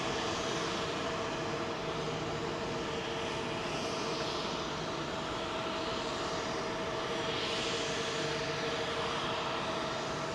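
Bahrain Royal Flight jet at Heathrow, a continuous, fairly loud engine roar with steady whining tones running beneath, holding level without a clear rise or fade and no talking.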